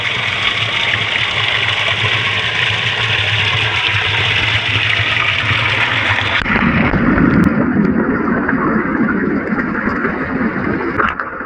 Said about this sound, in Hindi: तो इसी के ज़रिए ये ट्यूबवेल वगैरह चलते रहते हैं।